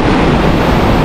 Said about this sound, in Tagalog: Malalaki na ng alon ngayon dito, oh. Hindi na pwedeng tumawid ng bangka.